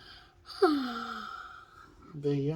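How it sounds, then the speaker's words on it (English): A child gives a long, drawn-out yawn that slides downward in pitch and trails off with a breathy exhale, heard up close; a voice starts speaking just after it. "Big yawns, huh, kiddo?"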